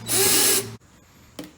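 A power drill whirs loudly for about half a second as it bores into wood, then stops, followed by a brief thud.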